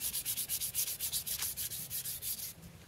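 Ash wood for a hand-carved axe handle is sanded by hand in quick, steady back-and-forth strokes, about fifteen even rasps, heard close and alone.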